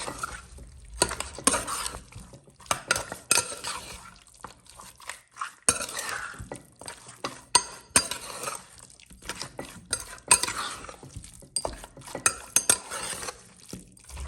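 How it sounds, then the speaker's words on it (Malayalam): Beef roast masala is stirred in a pan, a spoon repeatedly scraping and clinking against metal in uneven bursts, with soft wet squelches between strokes and short quiet gaps. "അങ്ങനെ നമ്മൾ നന്നായി ഇളക്കി കൊടുത്തു."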